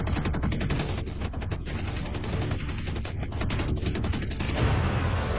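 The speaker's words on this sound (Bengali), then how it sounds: "20 মিলিমিটার শেল আর .50 ক্যালিবার গুলি মাটি চিরে যায়" Rapid strafing bursts of 20 mm cannon and .50 caliber machine-gun fire tear across an airfield of parked planes, a dense continuous rattle at close range with no voices.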